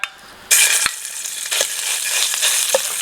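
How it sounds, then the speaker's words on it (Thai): Red curry paste mixed with shrimp paste stir-fried in a little oil for a Thai curry, a loud steady sizzle that bursts in at once, with a few sharp scrapes of the spatula against the pan. "เราจะต้องผัดน้ำพริกแกงเผ็ดเนี่ยให้หอมก่อน"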